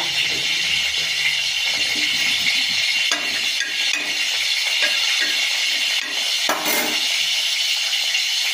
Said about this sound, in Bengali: সেই মশলাটা আগে আমি শুকনো তাওয়ার মধ্যে আমি নেড়ে নেব